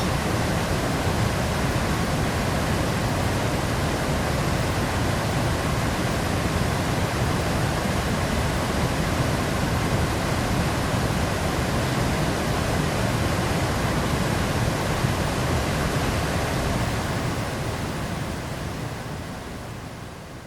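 Svöðufoss waterfall in western Iceland pours with a dense, unbroken rushing roar, loud and even throughout before easing off in the last few seconds.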